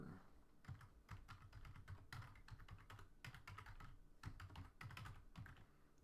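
Rapid typing on a computer keyboard, with irregular clusters of light key clicks and brief pauses, close but quiet, no voices.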